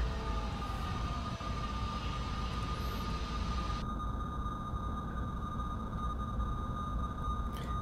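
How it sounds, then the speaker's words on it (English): Jet engines on a plane in Kerbal Space Program roar in a continuous, dense rumble with a steady high whine riding over it, loud and unbroken throughout. "At this point, I'm going to turn my jet engines back on."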